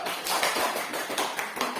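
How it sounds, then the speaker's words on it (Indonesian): Classroom audience claps for a student group after their presentation in a problem-based learning lesson, a dense steady patter of many hands lasting throughout, fairly loud and close with no talk over it. "Mari kita beri tepuk tangan untuk mereka"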